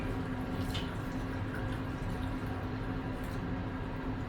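Black and white film developing chemical poured from a container into a developing tank in a photo lab, a steady soft liquid trickle and gurgle running throughout, fairly faint and close, with a brief knock at the end.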